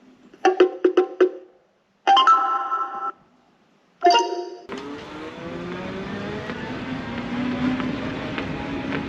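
A V11 electric ride-on gives a few short electronic beeps and chimes, then its motor whirs up into a steady, rising whine as it sets off on a test ride, fairly quiet and close.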